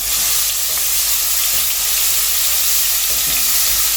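Crushed ginger and garlic fry in hot sunflower oil and butter, a loud, dense, continuous sizzle close up, with faint stirring scrapes and no talk.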